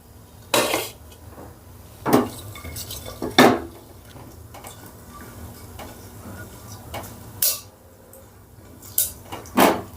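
Cashews stirred in a pan while frying for a sweet Assamese bora rice snack, with a spoon clinking and scraping against the metal in sharp, irregular knocks over a faint background sizzle.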